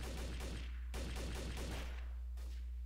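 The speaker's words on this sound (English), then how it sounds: "Someone's shooting up at the tower." Bursts of rapid gunfire in the Trouble in Terrorist Town game near a tower, faint and distant-sounding, with two or three clusters of shots separated by short pauses.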